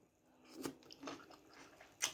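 Close, crunchy chewing and biting on som tam papaya salad with blanched vegetables, a few distinct crunches over about two seconds with soft mouth sounds between, no talking.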